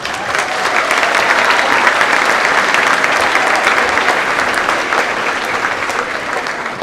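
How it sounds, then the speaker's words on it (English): A school general assembly audience claps in a full, dense burst of applause that stays loud and even throughout, then tapers slightly at the end. "Give yourselves a round of applause."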